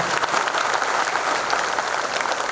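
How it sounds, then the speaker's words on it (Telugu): An audience at an indoor meeting claps together in a dense, steady burst of applause lasting a few seconds, with no voices over it. "చప్పట్ల ద్వారా ధన్యవాదాలు తెలియజేద్దాం"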